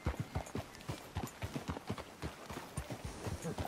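Steady clip-clop of horse hooves at a walking pace in the video game Red Dead Redemption II, close and clear, with a faint voice briefly underneath.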